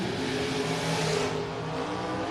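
A Ford-powered dragster launches down a drag strip at a handicap bracket race, a dense, steady engine roar heard from a distance without a break.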